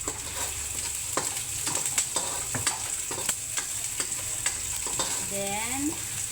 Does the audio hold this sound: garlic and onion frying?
yes